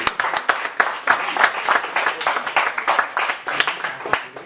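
A hall audience at a community group's first anniversary celebration claps steadily, a dense, fairly loud wash of many hands with quick, irregular rhythm throughout.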